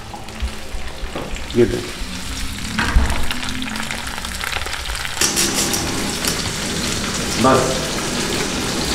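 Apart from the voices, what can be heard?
eggs frying in ghee in a pan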